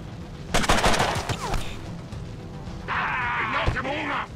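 Rapid bursts of automatic gunfire rattle in quick succession in the video game Mutant Year Zero: Road to Eden, followed by a sustained electronic buzzing tone, with some speech underneath.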